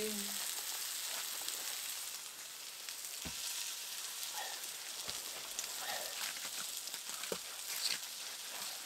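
Food with celery, potatoes and onions seasoned with Lawry's cooking over a woodland campfire: a continuous soft sizzle and crackle with a few faint clicks and scrapes of stirring, heard alone.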